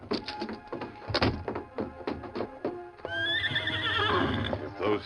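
A horse clip-clops with uneven hoof knocks and shuffles, then lets out a long, loud, wavering neigh up close, with no talking.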